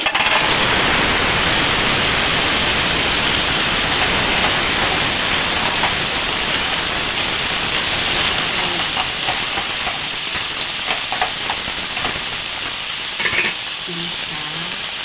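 Sea shells (punaw) sauté in a pan for soup, producing a loud, steady, close sizzle with occasional pops and clatters near the end.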